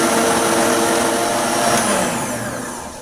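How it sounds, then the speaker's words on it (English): A food processor grinds walnuts, garlic and salt for pesto, a loud, steady, close whirring roar that runs the whole time and eases slightly toward the end, with no speech. "And I'm going to give it another grind for about 30 seconds."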